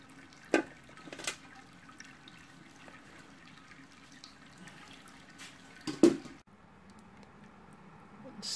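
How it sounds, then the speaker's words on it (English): Wort drips slowly from the grain basket of a Robobrew Gen 3 brewing system after sparging, with a few distinct splashy drops spaced seconds apart over a faint watery background. "Still dripping a little bit."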